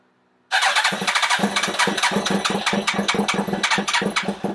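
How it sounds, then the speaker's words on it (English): A Yamaha R1 motorcycle fires up from cold after sitting for a couple of days, an abrupt loud start settling into a fast, lumpy, pulsing idle that carries on steadily, close by, with no talking. "This is gonna be a cold start."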